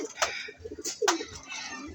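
Pigeons in a loft coo in low, throaty bursts, close and fairly loud, with a few sharper calls and light wing or shuffling noise mixed in.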